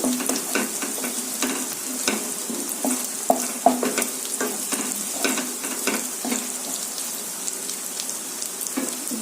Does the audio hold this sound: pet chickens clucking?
no